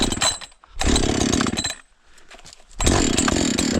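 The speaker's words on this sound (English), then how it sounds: "Starting saw." A chainsaw used for trail maintenance on fallen logs fires up and revs loudly, drops to a quieter idle, then roars back to full throttle, close by.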